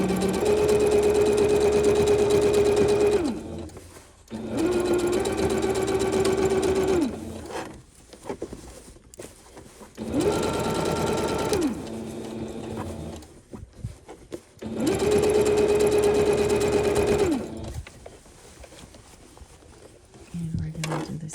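A sewing machine stitches a reversible tote in four steady bursts of rapid whirring, each a few seconds long, separated by short pauses with faint handling noises.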